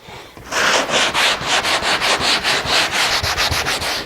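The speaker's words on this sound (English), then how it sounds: "It's sanding it down." Rhythmic back-and-forth sanding strokes on a wooden spar down to foam, close and steady, about four strokes per second with no talking.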